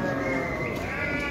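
Sheep bleat at a livestock market in Şarkışla, a loud sustained cry close by over a dense background of animal noise.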